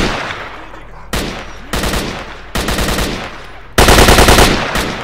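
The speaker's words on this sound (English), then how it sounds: "it switches from semi to burst fire" Automatic weapon fire in S.T.A.L.K.E.R. Shadow of Chernobyl, loud rapid bursts coming in several separate volleys with short gaps between them, the last burst the heaviest, with no voices over it.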